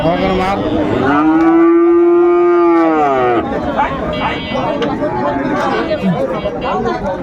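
A Fleckvieh cow at a busy Bangladeshi livestock market gives one loud, sustained moo lasting about two seconds, followed by crowd chatter and people talking nearby.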